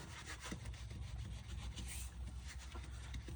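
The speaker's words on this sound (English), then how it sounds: "I'm using one of these wheel brushes." A wheel brush scrubbing a car wheel rim during cleaning, a steady close rasping rub with rapid back-and-forth strokes, continuous and fairly faint, with no voices.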